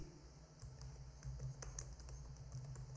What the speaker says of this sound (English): So here we will type please